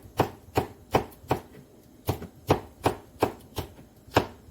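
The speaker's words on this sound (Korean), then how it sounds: "반 갈라서 얇게 썰어주겠습니다" A knife slices half a large red chili pepper into thin pieces on a cutting board, about ten crisp, evenly spaced chops in a steady rhythm, close and clear with no talking.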